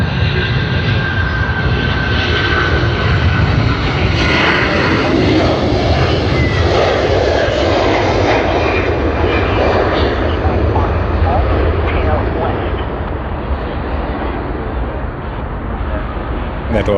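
Garuda Indonesia airliner in special livery at Sydney Airport, a loud, steady roar of jet engines filling the whole stretch, slowly swelling and then easing, with faint talk underneath.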